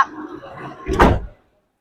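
The door of a 2018 Toyota Ventury 2.7G automatic van shuts with a single solid thud about a second in, preceded by faint background murmur and followed by silence.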